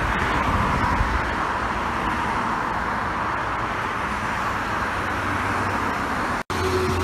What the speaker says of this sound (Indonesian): bus pertama hari ini